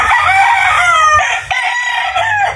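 Close, loud rooster crow from a kanawayon fowl, one long drawn-out call with rising and falling pitch that fills the whole moment, no talking over it.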